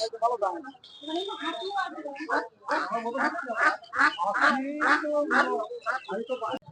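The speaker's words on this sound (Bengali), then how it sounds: "এই পাশটায় পুরোটাই হাঁস বিক্রি হচ্ছে। বড় হাঁস, বাচ্চা হাঁস।" A crowd of ducks, large and young, quacks nonstop nearby at a village market in Bangladesh, loud overlapping calls, with voices mixed in.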